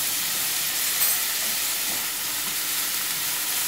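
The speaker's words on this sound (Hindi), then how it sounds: "इसको हम थोड़ा सा गार्लिक पेस्ट को थोड़ा सा फ्राई ज़रूर करेंगे" Garlic paste frying in a pan while chicken bread is being made, a steady close sizzling hiss that holds even and unbroken throughout.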